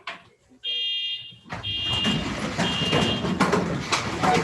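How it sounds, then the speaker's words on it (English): A shrill electronic fire alarm blares continuously during a school fire drill, starting after a brief pause, with a crowd's chatter and movement rising beneath it. "In about a minute, we're going to hear the fire drill go."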